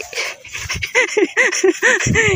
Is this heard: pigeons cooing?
no